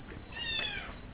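A kitten gives a single drawn-out, high meow, rising and falling, close and fairly clear against a quiet background with no talk.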